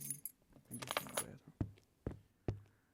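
A bunch of keys jangles and clinks close by, first in a busy rattling burst, then in three separate sharp metallic drops or sets onto a table, each ringing briefly in a quiet room.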